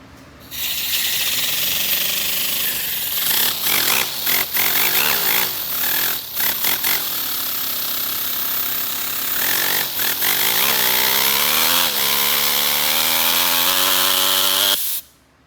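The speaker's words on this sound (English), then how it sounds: "Here's my miniature V4 engine. About to run it with the air compressor." A miniature V4 engine run on compressed air from an air compressor, a loud continuous buzzing whir with shifting pitch and brief stutters, running steadily for about fourteen seconds before cutting off abruptly.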